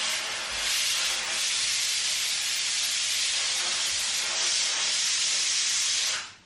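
Steam hisses steadily from a pot of potatoes boiling on a gas stove, a dense and continuous airy rush that holds for about six seconds before cutting off abruptly.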